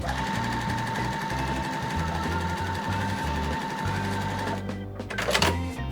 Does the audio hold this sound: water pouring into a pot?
no